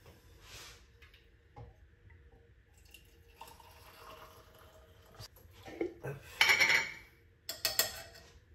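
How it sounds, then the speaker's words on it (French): Water is poured into a cup holding lemon and ginger in a home kitchen, a short splashing trickle following quiet clinks and drips, all fairly close and soft. "c'est juste une tasse avec du citron, du gingembre. Moi, je mets de l'eau."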